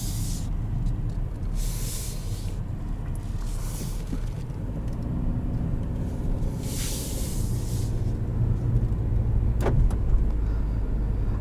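2021 Nissan Altima Platinum 2.5 AWD cruising in sport mode, with a steady engine and road drone heard from inside the cabin and passing whooshes of wind or traffic.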